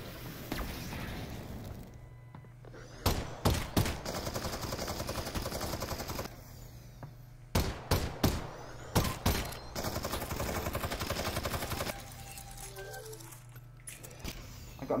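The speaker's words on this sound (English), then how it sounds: "This guy's got a fucking Gatling gun." A Gatling gun in the Half-Life: Alyx video game fires in several loud bursts of rapid shots, with sustained battle noise between the bursts.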